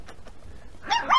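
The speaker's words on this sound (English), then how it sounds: "Don't bark at me." A miniature schnauzer puppy gives a short, sharp, high bark at close range. It comes after a moment of quiet and lands right at the end.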